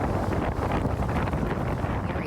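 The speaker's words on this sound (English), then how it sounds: "We're seeing gusts close to 45 miles an hour like you see there." Strong wind gusting near 45 mph during wildfires roars and buffets against the microphone, a dense, continuous rushing noise with gusty surges and no voices.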